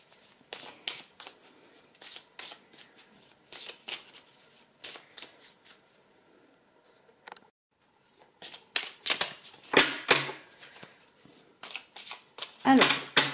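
Oracle cards being shuffled and handled during a French daily energy reading, with repeated riffling bursts and soft card slaps in irregular bunches, growing louder near the end; no speech.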